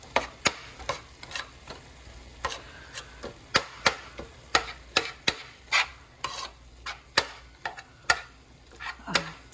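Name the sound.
food thawing and cooking in crockpot, being separated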